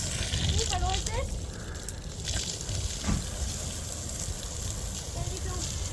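A hose spraying water over a house to imitate rainfall gives a continuous close hiss and patter, with someone speaking intermittently over it.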